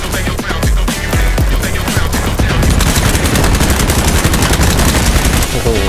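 Gunfire in BattleBit Remastered: a dense, sustained stream of automatic shots with sharp individual cracks early on, blending into heavy continuous fire throughout, loud and close.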